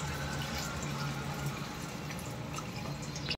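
Strained boiled water is poured into a cooking pot for chicken yakhni pulao, a continuous close splashing stream that cuts off abruptly at the end.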